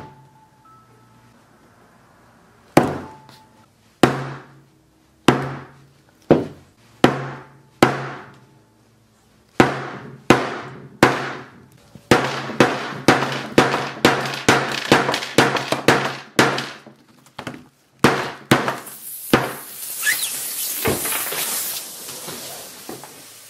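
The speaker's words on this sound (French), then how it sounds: "des coups de marteau comme ça sur un téléphone tout neuf" Hammer blows strike a new Samsung Galaxy S5 smartphone: loud, sharp impacts that come singly and widely spaced at first, then quicker and denser, ending in a harsh crunching, grinding noise.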